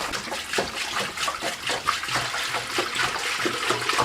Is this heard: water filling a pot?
yes